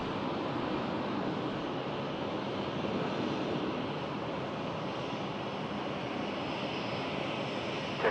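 An airliner lands at Sydney Airport, heard as a continuous broad engine roar that holds steady for several seconds, blended with wind noise and no voices.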